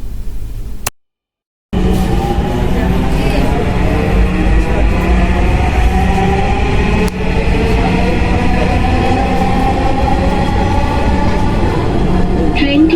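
A metro rail train pulls into an elevated station and runs on, a loud steady rumble with rising and falling motor whine and wheel hum after a brief silent gap near the start.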